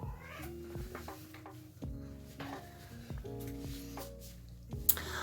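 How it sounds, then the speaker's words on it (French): A small cat meows repeatedly for attention, with a string of drawn-out, wavering calls at an uneven pace, fairly close by. Faint clinks and household knocks sound in a quiet room. "Le petit chat demande de l'attention."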